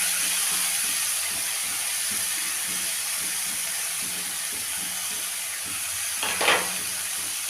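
Chopped onion, green chili and vegetables sizzling in hot oil with mustard seeds, cumin and asafoetida: a loud steady hiss with faint rhythmic stirring knocks underneath and a brief sharper flare near the end, no talking.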